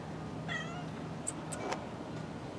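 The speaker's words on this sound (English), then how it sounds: "That might be meowing in the background of my video." A cat gives a couple of short meows in the background of a quiet indoor room, faint and slightly distant over a low steady hum.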